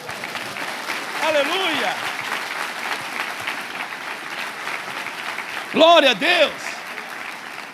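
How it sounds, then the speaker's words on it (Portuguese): A church congregation at an evangelical service applauds in a steady wash of clapping, with voices shouting praise over it twice. "Você pode aplaudir a Jesus?"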